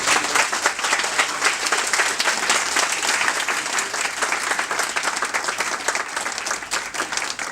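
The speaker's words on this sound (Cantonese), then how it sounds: "請各位弟兄姊妹以掌聲嚟帶去" Members of a church congregation applaud after a prayer, a full, continuous round of clapping that stays loud and steady for several seconds, no talk over it.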